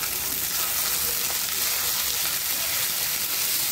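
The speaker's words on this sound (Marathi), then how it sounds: "छान असा मऊ होईपर्यंत आपण भाजून घेणार आहोत." Cut tomato pieces fry in a pan as they soften, giving a steady, dense sizzle that holds at an even level from start to finish, close and without any talk.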